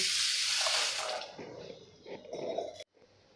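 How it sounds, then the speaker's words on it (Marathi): Basmati rice rinsed under plenty of running tap water while making veg fried rice: a steady, close rush of water splashing in a vessel that cuts off abruptly near the end. "आता यामध्ये आपल्याला भरपूर पाणी टाकून स्वच्छ असा धुवून घ्यायचा आहे"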